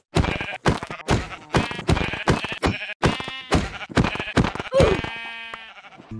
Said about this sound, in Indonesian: Langsung saja aku disuguhkan dengan beberapa domba